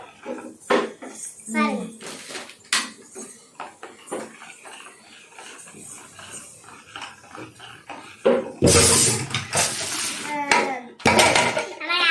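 Spice powder stirred into a pot of water for pani puri in a home kitchen, with clinking utensils and scraping against the vessel, intermittent and fairly loud, amid adult talk and a voice.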